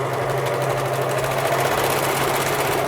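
A serger sewing machine runs steadily, stitching and trimming fabric edges while gathering, with a continuous close mechanical whir and hum throughout and no talking.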